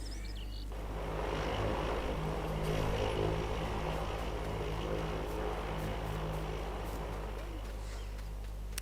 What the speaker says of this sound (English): The helicopter going past